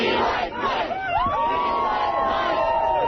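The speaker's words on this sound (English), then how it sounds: "Here are some of his supporters cheering him on." A crowd of political supporters cheering and whooping for a candidate, a loud sustained roar of mixed voices with rising and falling shouts and yells throughout.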